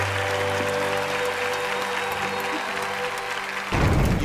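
An audience at a magic and illusion stage show applauds a performer named Natasha, a steady wash of clapping that holds evenly, then swells slightly louder with cheering near the end.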